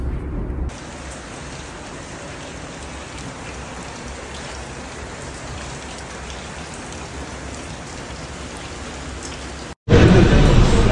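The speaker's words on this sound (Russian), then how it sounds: "Только что прошел ливень, он еще до сих пор капает." Rain keeps dripping steadily after a downpour outside a hotel in Istanbul, a dense even patter, before a louder rustle breaks in at the end.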